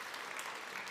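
Audience applause at a presentation, a steady dense wash of clapping from a crowd that fills the whole moment evenly.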